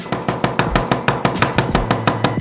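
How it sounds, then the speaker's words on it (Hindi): A knife chops garlic rapidly and steadily on a cutting board, a quick even series of sharp taps close up. "लहसुन को कुचल दे, इसे साफ करें और बारीक काट ले।"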